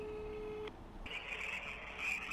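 A telephone call to a tuk-tuk service in Bucharest rings out through a handset: a steady tone that cuts off, then a brighter warbling ring tone that continues, quiet and without talk.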